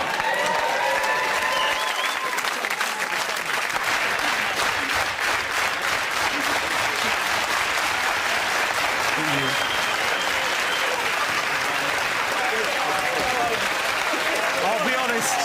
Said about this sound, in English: you started that fast clap way too soon